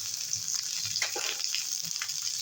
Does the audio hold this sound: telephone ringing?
no